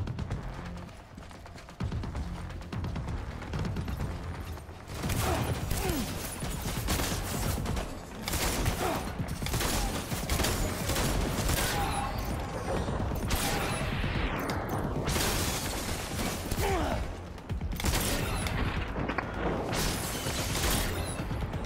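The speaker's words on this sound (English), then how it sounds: "So fun actually shooting people in Death Stranding" Repeated gunfire while shooting people in the video game Death Stranding, sharp bursts scattered over a busy, loud game soundscape with clattering and rumbling effects throughout.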